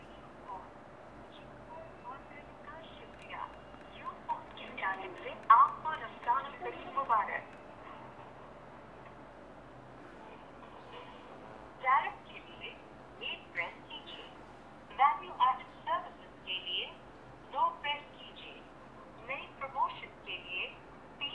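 A Nokia Asha 311 loudspeaker during a phone call gives off faint, tinny bursts of ringing and voice-like sound in uneven clusters over a quiet background.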